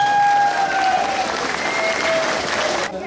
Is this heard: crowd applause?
yes